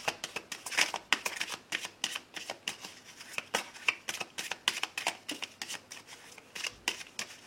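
Tarot cards being shuffled for a reading, a steady run of quick papery riffles and slaps repeating close up with no voice over them.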